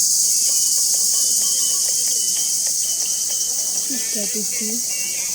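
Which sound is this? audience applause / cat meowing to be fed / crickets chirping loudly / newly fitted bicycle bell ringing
crickets chirping loudly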